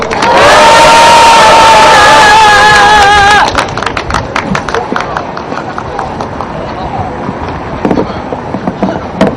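A large crowd at an outdoor peace rally cheering and shouting loudly in unison, one sustained roar for about three seconds, then scattered shouts, whistles and clapping with people talking underneath.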